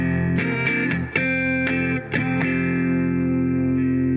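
Distorted electric guitar rings out in sustained chords with a few brief breaks between strums, loud and close, with no talking.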